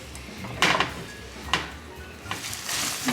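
Cooked ground beef tipped and drained in a pan for tacos, giving a few brief clattering knocks of pan and utensil with a faint liquid trickle between them, fairly close.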